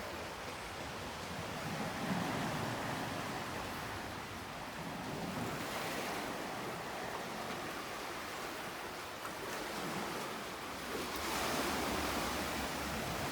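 Ocean surf washes steadily onto Holetown Beach in Barbados at night, a broad continuous rushing with gentle swells rising and falling, no voices.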